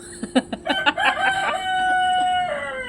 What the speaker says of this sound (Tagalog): Yung manok na maingay. Ng kapitbahay.